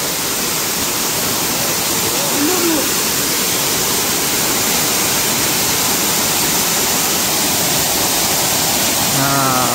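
Kurdkot waterfall at Deogarh roars steadily and loudly, a dense unbroken rush of falling water that fills the whole scene, with faint voices barely audible beneath it.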